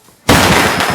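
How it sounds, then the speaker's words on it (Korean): Giant fireworks set off inside a shop, a sudden loud blast bursting in after a near-silent moment and roaring on with dense crackling. "그가 바로 온 건 바로 거대한 폭죽이었습니다."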